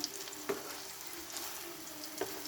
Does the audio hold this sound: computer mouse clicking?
no